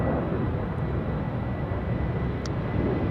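A Finnair Airbus A330-300 at Amsterdam Schiphol gives off a constant, loud jet engine rumble that fills the clip evenly, with no speech over it.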